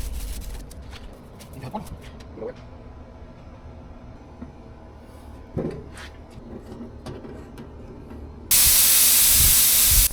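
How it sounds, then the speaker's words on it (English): Spray gun laying primer over a car body repair: quiet workshop shuffling and light knocks give way near the end to a loud, steady hiss of spraying up close. "We are applying an even coat of primer over the repaired area"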